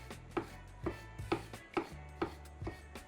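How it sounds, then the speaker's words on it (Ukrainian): A knife chops mushrooms into small pieces on a board, seven evenly spaced crisp taps close and quiet, with no talk. "Гриби перерізаємо навпіл та також нарізаємо невеликими шматочками."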